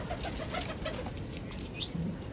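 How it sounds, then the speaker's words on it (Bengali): A Golla pigeon coos softly nearby, its low calls faint against steady background noise, with a brief flutter-like sound near the end. "এটা মনে হয় একটা গোল্লা কবুতর"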